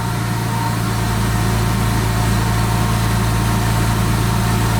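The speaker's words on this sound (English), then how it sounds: "Idle's coming down a little bit." A supercharged BMW E36 M3 engine running on a standalone ECU idles steadily, a close, constant low rumble with an even hum and no revving.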